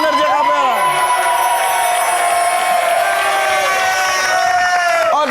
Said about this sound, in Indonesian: Tepuk tangan lebih meriah dong untuk Energi Acapella.